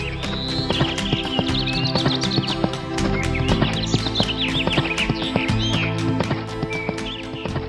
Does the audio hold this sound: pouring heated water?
no